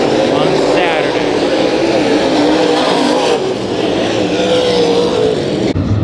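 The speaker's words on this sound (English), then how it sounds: "Heat race number 3 for the IMCA Modifieds." IMCA Modified race cars roar around the Kings Speedway dirt track during a heat race, a loud continuous engine drone that rises and falls as the pack passes, with an announcer talking over it.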